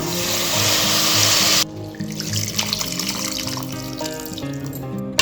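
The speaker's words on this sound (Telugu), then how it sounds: "ఇప్పుడు మనం రసం పోసేసుకుందాం" Tamarind juice for a bitter gourd curry is poured into a pan, first as a steady close splashing stream, then settling into softer trickling and bubbling sounds.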